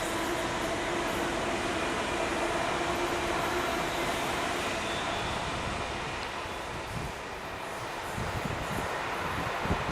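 A Class 350 electric multiple-unit train running past at South Hampstead, a continuous rushing rumble with rattling wheels on rails, loud and close throughout and easing slightly before picking up again, with no speech.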